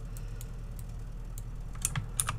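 Computer keyboard keys tapped while building a Second Life clothing top, followed by a mouse click; a few sparse, close, crisp clicks over a quiet steady hum.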